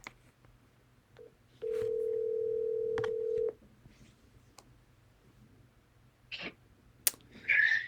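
Telephone call tones: a sustained steady tone of about two seconds, followed by sparse clicks and short electronic blips, faint and set against near silence.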